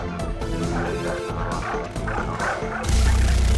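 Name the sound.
dogs barking in video game Far Cry 3 Blood Dragon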